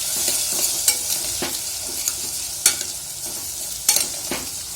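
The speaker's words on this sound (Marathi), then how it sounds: "सगळा मसाला याच्यात टाकूया आपण आणि मिक्स करूया" A spoon scrapes and clacks in a pan as masala is stirred into softened tomatoes over low heat, with a light, steady sizzle between the irregular stirring strokes.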